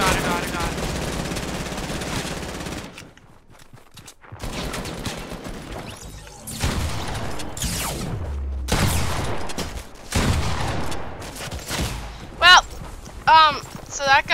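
Bursts of gunfire from a Fortnite match sound in rapid volleys, loud and close, broken by short gaps and sharper chirping effects near the end, with no talk over them.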